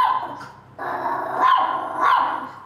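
A small dog gives a few sharp, close barks with a slight growl to them, outdoors on a walk through back streets, with no one talking.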